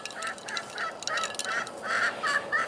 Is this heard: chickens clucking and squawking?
yes